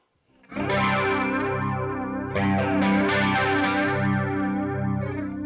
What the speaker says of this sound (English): This is the normal flanger.